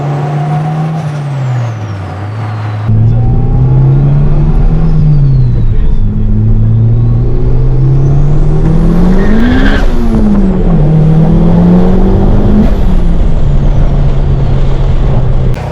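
A turbocharged Honda DC2 Type R engine with VTEC revs hard and climbs in pitch, rising and falling with gear changes, loud and close, with a sharp high whine as the revs peak.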